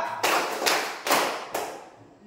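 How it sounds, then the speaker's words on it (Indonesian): A classroom of students claps together in a few sharp, loud bursts, roughly evenly spaced, with room echo trailing each one and no talking in between. "Oke, kalau Bapak bilang tepuk tangan 3."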